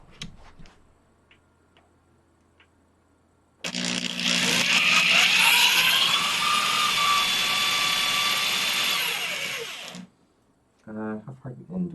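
A brief tick, then a power drill whines loudly into a wall with wood behind it for about six seconds, its pitch shifting as it bites, then stops; a voice follows.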